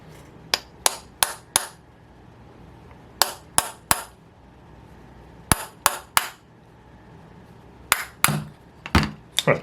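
Sharp metallic hammer taps knocking the front bearing out of an O.S. FS-120 Surpass model aircraft engine, struck in quick bursts of two to four blows with short pauses between, close and loud with no talking.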